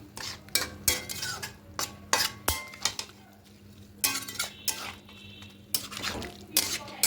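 Noteshak posto with potato being mixed in a pot after water is added, a spoon repeatedly scraping and knocking against the metal in irregular loud clanks with quieter stirring between them.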